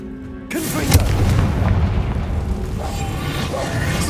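The Confringo fire spell explodes in Hogwarts Legacy: a sudden deep booming blast that then rolls into a sustained rumbling, crackling roar.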